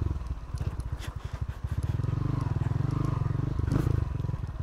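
A motorcycle engine putters and revs nearby at a hot spring, with a rapid rhythmic chugging that rises in pitch and steadies. Light clattering and a voice are briefly heard.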